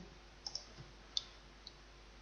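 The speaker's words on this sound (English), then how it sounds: "Click OK to confirm the settings." A few sharp, quiet clicks of a computer mouse in a quiet room: a quick double click, then a single louder click and one faint click after it.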